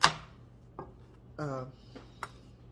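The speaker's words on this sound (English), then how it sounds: "So this is the way I want to cut my pepper." A knife cuts a pepper into small quarters on a board: a sharp first chop followed by three or four lighter, spaced taps and a short scraping slice, close and quiet.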